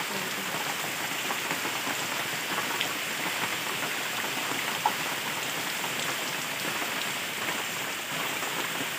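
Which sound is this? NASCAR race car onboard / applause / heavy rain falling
heavy rain falling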